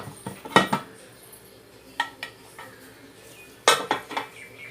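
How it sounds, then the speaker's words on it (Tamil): A pressure cooker lid is opened to check a cake baked inside, giving a few sharp metallic clanks and knocks of pot and lid against a quiet kitchen background, with a louder clatter near the end. "இப்போ வந்து குக்கர் ஓப்பன் பண்ணி பார்க்கலாம்."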